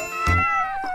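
A cartoon cat gives a single short, clear meow, close and fairly loud, alone without speech.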